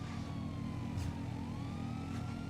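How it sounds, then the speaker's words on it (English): Police sirens wail in Grand Theft Auto V, faint and distant, rising and falling over a steady rumble of car engines during a road race, with no talk. "I don't think they can hear the sirens"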